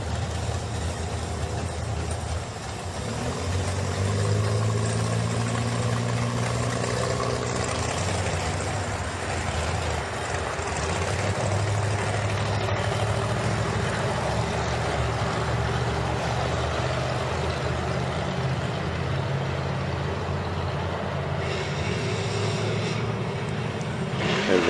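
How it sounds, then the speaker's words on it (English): A street-driven car's engine runs steadily at a Route 66 cruise event, loud and close, with a deep low rumble throughout and a brief rising rev early on; no talk over it. "That car does sound good."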